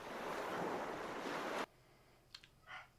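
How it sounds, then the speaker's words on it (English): Ocean waves in the pixel-horror game The Last Door, a steady loud wash of surf that cuts off abruptly, followed by a few faint clicks and a soft swish. "Okay, there's the ocean."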